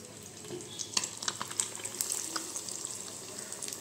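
Egg bajji frying in hot oil, a steady close sizzle with crackling pops and light clinks of stirring, no voices.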